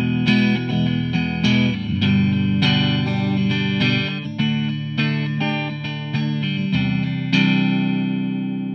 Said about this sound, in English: You can blend that third one in to basically be all pickups on.